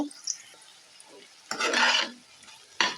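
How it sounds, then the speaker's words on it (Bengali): Onions frying lightly in a pan, with a soft sizzle broken by bursts of louder scraping as they are stirred, one long stir in the middle and a short one at the end. "পেঁয়াজটা এখন হালকা করে একটু ভেজে নেব"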